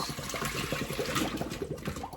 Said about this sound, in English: So we're gonna just strain the potatoes.